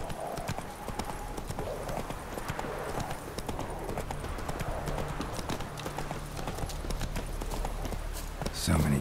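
Horse hooves gallop in a steady clip-clop rhythm through a Witcher 3 game scene, loud and continuous, with a rider's voice and ambient game sounds mixed underneath.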